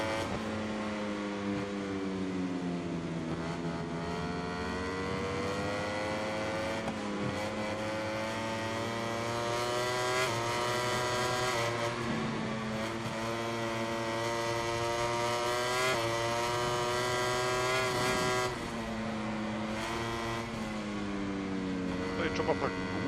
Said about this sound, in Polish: przekładać ten motocykl, nie agresywnie, tylko bardzo delikatnie